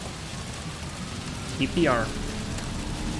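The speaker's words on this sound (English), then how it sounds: "Man, the rain sound is just so annoying." Steady rain drums on the cockpit of a Boeing 757 freighter in X-Plane 12 during a windy takeoff at St. Maarten, a dense hiss that runs nonstop while a short spoken word cuts in briefly.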